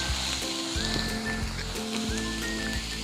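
Chicken filling sautéing in a pan gives a steady, close sizzle with faint scraping, continuous with no pauses and no talk.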